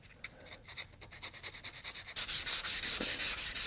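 Hand sanding the edges and corners of a mitered wooden box with 320 grit sandpaper gives a quick, regular series of rasping strokes, light at first and then louder and denser.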